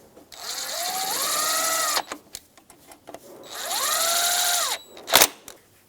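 A power tool with a 12mm socket drives pulley bolts on a 2004-2009 Subaru Outback during a timing belt and water pump job. It gives two whirring bursts that rise and fall in pitch, each followed by clicks and a sharp clack.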